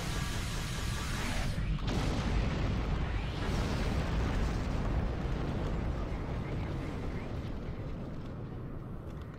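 A big explosion in the Star Trek Online space game sets off a loud, sustained roaring blast with a deep rumble, then slowly fades while staying heavy throughout.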